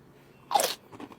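A crunchy snack topped with matcha sauce is bitten once with a loud crisp crunch, followed by a few softer chewing crackles, close and without talk.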